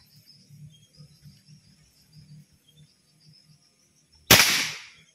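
One loud, close report from a Gamma Sporty air rifle, a sharp crack with a quick fading tail, cutting through steady outdoor insect chirping in the background.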